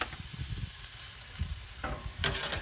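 Lamb roasting over an open fire, a faint crackling sizzle with soft pops and hissing bursts near the end, close but low in level.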